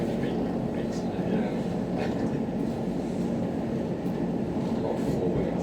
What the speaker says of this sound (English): This is a Lioness Line train to Watford Junction.